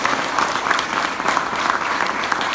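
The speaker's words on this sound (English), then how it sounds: "Let's give Molina a round of applause." An audience applauds a Los Angeles councilman's call to recognize Molina at an Ignite22 event, the clapping dense and steady throughout, with no voices over it.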